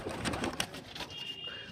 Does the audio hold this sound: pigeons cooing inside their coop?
yes